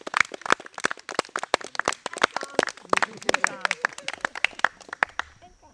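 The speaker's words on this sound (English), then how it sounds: "And let's give a round of applause to Nora." Scattered clapping from a modest audience gathered for an announcement about preserving a Revolutionary War site in North Castle, sharp separate claps at an uneven pace with a voice speaking over them.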